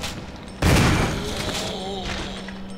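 A loud burst of gunfire in the video game Resident Evil HD Remaster erupts partway through, a sharp blast followed by a lingering rumble over steady background hum.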